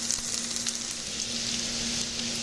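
Smashed potatoes fry over high heat in clarified butter, giving a steady close sizzle with light crackles and a faint continuous hum beneath.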